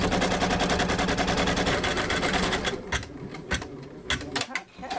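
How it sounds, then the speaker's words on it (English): An embroidery machine stitches a small name onto a baby onesie. It gives a fast, steady mechanical chatter up close that breaks into uneven, stuttering bursts toward the end. "And then I'm going to hit start, and we'll sew the little name."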